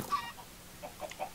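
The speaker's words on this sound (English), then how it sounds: "Let's shoot some chickens." Minecraft chickens give a few short, faint clucks in quick succession, quiet and close.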